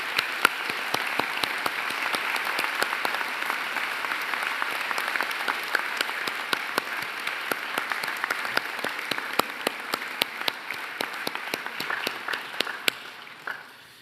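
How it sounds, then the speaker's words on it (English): Sustained applause fills a university graduation ceremony hall as the audience claps for graduates, a dense, even roar of many hands with crisp individual claps that tapers off near the end. "join me in applauding the wonderful achievements of our graduates"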